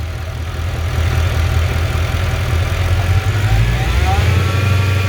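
A supercharged 2012 Mercedes C63 with 193k km idles steadily, loud and close, with a brief blip of revs partway through.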